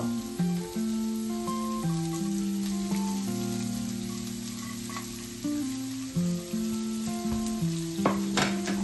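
Onions frying in a pan give a continuous crackling sizzle underneath a prominent melodic tune that plays throughout, with a few louder spatters near the end and no speech.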